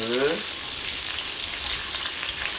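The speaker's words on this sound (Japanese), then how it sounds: "焼き目をつけていく" Chicken wings sear in a hot pan for a Shanghai-style braise with daikon radish, giving a steady, close hiss of frying after a brief low tonal sound at the start.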